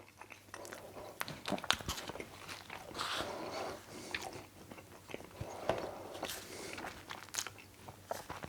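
Naan baked in an Ooni oven being bitten and chewed close to the microphone, with soft crunches and quiet mastication in irregular bursts, faint and alone.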